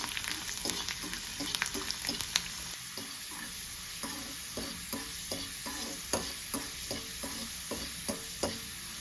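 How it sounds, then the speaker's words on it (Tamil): Whole peeled garlic cloves fry in a little oil in a kadai, with a steady close sizzle and a regular rhythm of spoon scrapes as they are stirred. "ஒரு கடாயில் கொஞ்சமாக எண்ணெய் விட்டு ஒரு முழு பூண்டை தோல் உரித்து சேர்த்துக்கலாம்."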